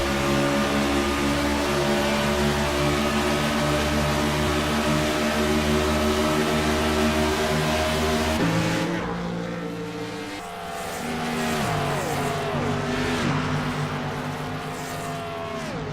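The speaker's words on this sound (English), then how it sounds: "now you hear the 20 car pedaling the gas as he comes around the turn here on lap 75" The number 20 race car on lap 75 of an HHRL race at Michigan drones loudly through a turn as the driver feathers the gas, the engine note shifting partway with falling pitch sweeps as cars pass, with no talk.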